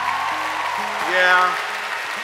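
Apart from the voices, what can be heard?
audience applause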